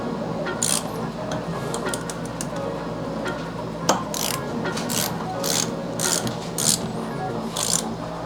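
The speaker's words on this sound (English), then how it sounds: "So now what we're going to do is just torque these bottom bolts." A ratchet turns the bottom faceplate bolts on a bicycle stem, a string of quick, rasping clicks in uneven bursts over a steady low background hum, close and fairly loud.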